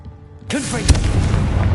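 Confringo fire spell from the Hogwarts Legacy video game going off, a sudden booming blast after a quiet moment, followed by a rumbling, crackling tail that fills the rest of the moment.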